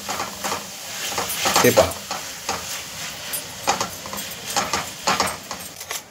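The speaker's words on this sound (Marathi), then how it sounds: "आता याच्यामध्ये आपण आपली आलं लसूण पेस्ट, हे बघा, आता पुन्हा एकदा जरा हे परतून घेऊयात" Onion and ginger-garlic paste sauté in a pan for an egg dish, with a constant sizzle broken by repeated stirring scrapes, close and fairly loud, as a voice speaks briefly over it.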